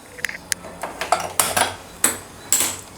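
Metal kadai and vessels set down on a kitchen stove, a series of sharp clanks and clatters spaced irregularly, close and fairly crisp, with no talking.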